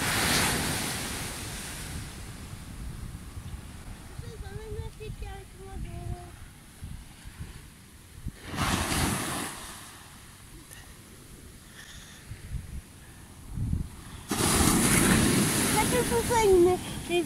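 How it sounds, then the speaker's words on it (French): Sea waves and wind on the shore at Saint-Jean-de-Luz, surf washing in with broad noisy surges and strong gusts buffeting the microphone, while people talk briefly in between. "On est à la mer ici."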